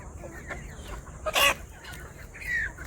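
Hens and roosters on a poultry farm cluck nearby in a short, sharp burst, with a softer call after it over quiet background noise.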